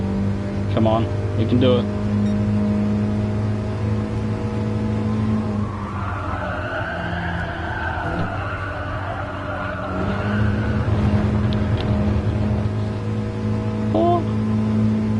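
Race car engine in the video game Gran Turismo Sport, a loud steady drone with gear shifts and a dip in revs through a corner before accelerating again, with a person talking over it.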